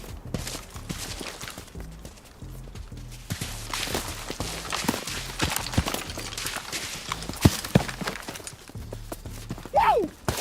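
Footsteps in the World War II shooter Enlisted, heard as a steady run of quick, muffled thumps with a hoof-like clip-clop rhythm, set under ongoing game ambience and some voice.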